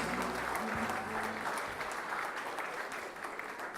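A wedding crowd applauds a mother and son dance, steady sustained clapping from many hands filling the room, with a brief low voice or tone near the start.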